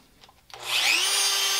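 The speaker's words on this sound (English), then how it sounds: "So I'm gonna take my Dremel" A Dremel rotary tool spins up sharply and settles into a loud, high, steady whine as it drills into a plastic samurai helmet, heard close and alone after a brief quiet lead-in.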